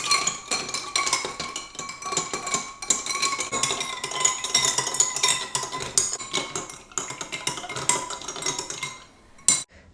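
A spoon stirs nannari sharbat mixed with soaked almond gum in a glass, giving repeated close metallic clinks and scrapes against the sides in a busy, uneven rhythm, a steady clatter with no talking.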